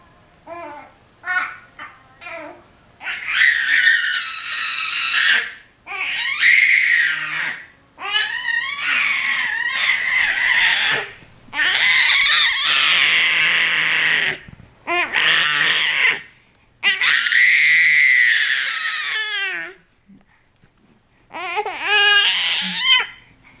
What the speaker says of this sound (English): is that your new way to get attention? You just scream?